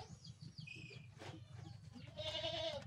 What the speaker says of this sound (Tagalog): Iyak nang iyak yung kambing kasi hindi yan pinalabas